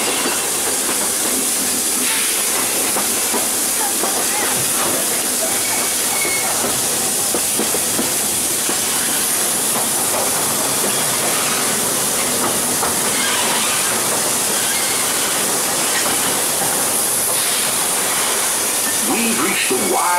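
A steady hiss of steam runs throughout alongside the rumble and rattle of a moving steam train at the Magic Kingdom, with faint clicking and scattered background noise.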